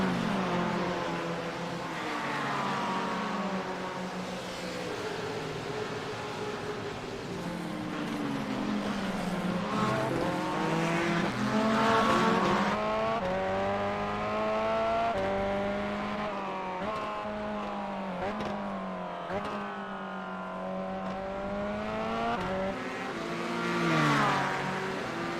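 A Chevrolet Corvette C8.R race car screams around the Mount Panorama circuit, its engine note rising and falling through gear changes as it passes, loud and sustained with no talk.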